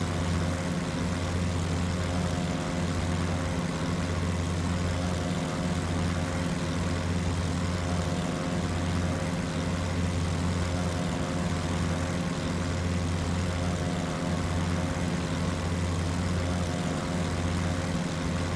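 Steady, droning engine of a light propeller aircraft in flight near Mumbai and Bhavnagar, a continuous loud hum with strong low harmonics that holds level throughout, with no talk.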